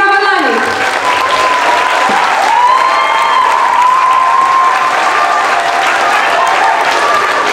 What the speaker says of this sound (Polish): I brawa dla nich.